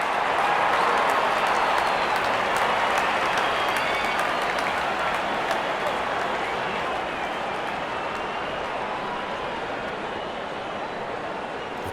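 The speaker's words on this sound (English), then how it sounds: "The crowd is enjoying every bit of this action." Steady, loud applause and crowd roar from spectators at an India versus Australia cricket match, continuous dense clapping filling the whole stretch and easing slightly toward the end.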